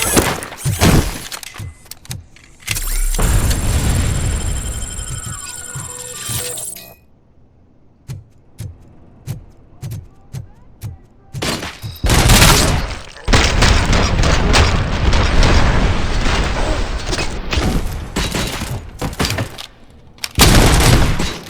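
Gunfire and crashing impacts in RoboCop: Rogue City, with loud bursts of shots and breaking debris in stretches, then a quieter gap of scattered single shots before heavy firing resumes.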